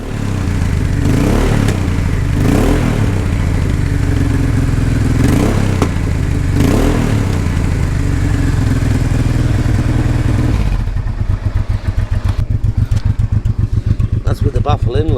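A Honda Deauville motorcycle with a newly fitted MOTAD exhaust revs up and down several times close by, loud rising and falling engine bursts, settling into a steady throb toward the end; someone talks over it.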